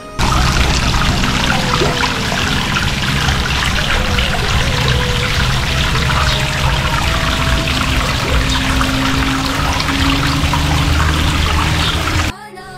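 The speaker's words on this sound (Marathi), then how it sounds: "इथे जर तुम्ही बघितलं ना तर या पिंडीतून पाणी येत आहे" Water flows continuously from a Shiva lingam at a temple, a loud, steady rushing pour that fills the whole stretch, with faint voices in the background.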